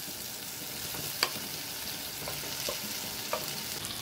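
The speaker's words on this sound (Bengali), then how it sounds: "এ পর্যায়ে অ্যাড করে দিচ্ছি ভেজে রাখা সজনে ডাঁটাগুলো।" Fried drumsticks (sojne data) and fried eggs being stir-fried together in a pan, giving a steady, moderate sizzle with a couple of sharp utensil clinks, no voices.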